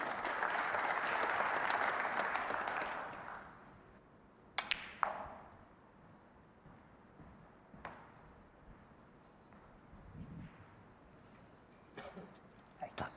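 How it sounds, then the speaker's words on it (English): Audience applause in a snooker arena after a well-played shot by Mark Allen against Zhou Yuelong, a loud burst of clapping for about three seconds that fades out, leaving faint clicks of balls and quiet commentary. "That deserved applause."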